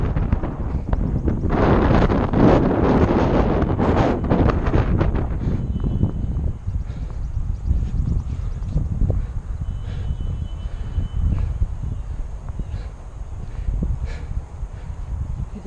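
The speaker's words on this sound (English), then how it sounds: "It sure is breezy." Strong wind buffets the microphone outdoors on a hike in Eastwood Park, with heavy gusty rumbling that is loudest early on, then settles into steady blustery noise with no talking.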